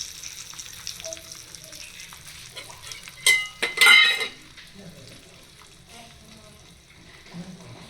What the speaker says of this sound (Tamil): கருவேப்பிலை போட்டு தாளிச்சுக்கோங்க.